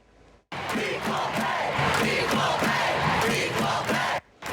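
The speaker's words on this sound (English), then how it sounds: "You hear the crowd yelling equal pay." Stadium crowd at a women's soccer trophy ceremony chanting loudly and continuously in unison for equal pay, a dense roar with rhythmic shouts lasting several seconds before cutting off.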